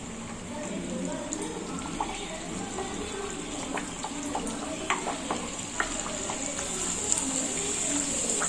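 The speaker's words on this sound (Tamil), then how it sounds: "நம்ம இந்த தட்டையை இதில் போட்டு பொரிச்சு எடுத்துடலாம்." Thattai frying in hot oil over a medium flame, a dense continuous crackling sizzle with scattered bubbling pops, close and fairly loud throughout.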